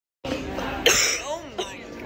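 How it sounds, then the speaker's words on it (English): Someone who has just finished a dance solo at a dance convention gives a sharp throat-clearing cough up close, then a smaller second cough a moment later. "I've been coughing ever since"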